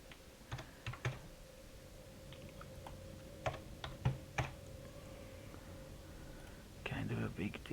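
Keys on a computer keyboard are struck in scattered single taps and short clusters, then rattle in a faster burst near the end, all quiet and close over a faint steady hum.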